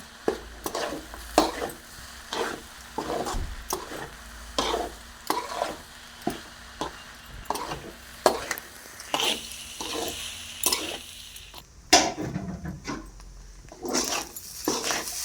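Stingray fish pittu fries dry in a pan. Rhythmic scraping strokes from stirring repeat roughly every second over a soft sizzle, close by, with a short clatter near the end.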